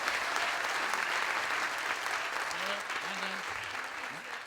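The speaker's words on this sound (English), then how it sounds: "Join me in giving him a great round of applause." A crowd at an outdoor community event in Bay Harbor bursts into steady applause, dense and sustained, tapering slightly at the end, with a voice speaking faintly underneath.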